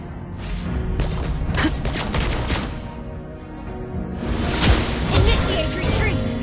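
Video game gunfire in bursts of rapid shots with whooshes and thuds, loud and continuous, with voice-like game sounds mixed in.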